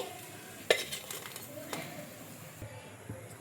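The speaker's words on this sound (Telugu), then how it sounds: "ఇంకా వీటిని అటు ఇటు తిప్పుకుంటూ మంచి కలర్ వచ్చే వరకు అయితే ఫ్రై చేసుకున్నానండి." Pieces of food frying in hot oil in a home kitchen are turned over in the pan, with a sharp utensil clink, soft scraping and a faint sizzle, under someone speaking.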